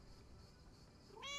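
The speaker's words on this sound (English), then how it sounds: "Here, little kitty, come on." Meow from a cat in the video game Lake, one short rising call entering at the very end after a stretch of faint ambient game hiss, fairly clear against the quiet background.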